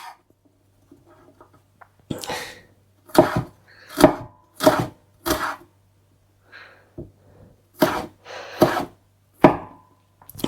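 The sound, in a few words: knife chopping ginger into thin strips on board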